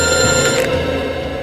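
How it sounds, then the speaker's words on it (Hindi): A telephone rings with a continuous bright electronic trill, loud and steady throughout with no voices. "हॉस्पिटल से फोन है।"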